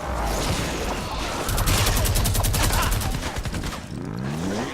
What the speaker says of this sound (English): my other one, which is the minigun